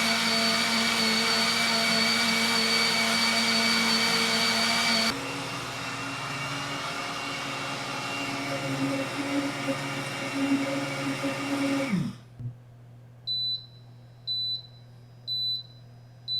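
An SRNPMIU nut milk maker runs its nut milk preset with a loud, steady motor whine and grinding hum that shifts tone midway, then winds down and stops, followed by a series of evenly spaced electronic beeps.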